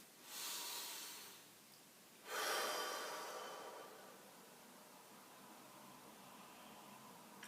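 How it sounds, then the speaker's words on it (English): A deep breath drawn in through the nose during a relaxation exercise, close and breathy, sounding as two hissing inhalations with a short pause between them, followed by quiet room tone. "Take a deep breath in."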